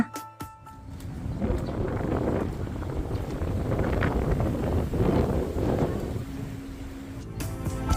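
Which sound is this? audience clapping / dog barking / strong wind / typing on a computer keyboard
strong wind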